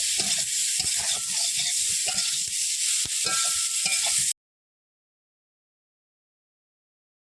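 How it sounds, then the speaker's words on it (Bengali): Brinjal fries with turmeric in a pan, giving a close, steady sizzle broken by scraping stirs for about four seconds before falling silent. "বেগুনটাকে একটু ভেজে নেবো।"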